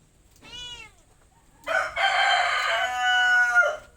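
A rooster crows nearby, loud and drawn out, after a brief higher call just before it.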